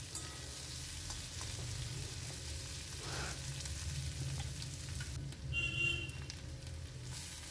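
Onions frying steadily in a pan for a fish curry, a low continuous sizzle with a brief stir or scrape near the middle, with no voices.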